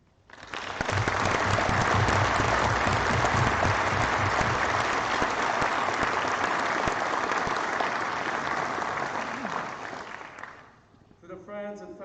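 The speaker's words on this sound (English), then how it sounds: "Round of applause, please." Loud, sustained applause from an audience at a Navy chief petty officer pinning ceremony, dense clapping that holds steady for about ten seconds before fading, followed by a brief voice.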